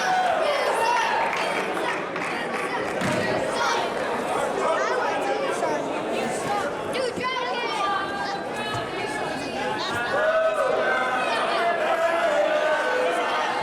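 A wrestling event crowd roars and chatters continuously, a dense babble of many voices with scattered shouts and cheers, loud and sustained throughout.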